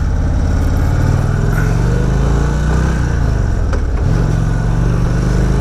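An Indian Springfield Darkhorse motorcycle engine runs loud and close while being ridden, holding a deep continuous drone with one rise and fall in pitch as it shifts and pulls away again, alongside wind rush.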